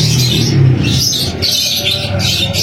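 A breeder pair of birds for sale at a Karachi bird market, amid busy, loud chatter of many birds with chirps and cooing layered over a dense background.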